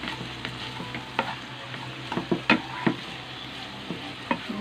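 Mixed vegetables for hakka noodles fry in a pan, a close steady sizzle broken by several scraping stirs and clinks.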